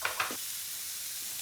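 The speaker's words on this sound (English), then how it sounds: "it's basically frying onion and frying tomato." Onions sauté over low heat in a pan for a Catalan sofrito, giving a quiet, steady sizzle with a couple of brief stirring scrapes at the start.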